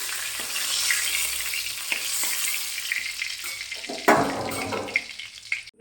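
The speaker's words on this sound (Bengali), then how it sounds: "পটলগুলোকে ভেজে নিলাম" Pointed gourd (potol) fries in mustard oil in a pan, a constant close sizzle with occasional scrapes and stirring knocks, plus a louder clatter near the end.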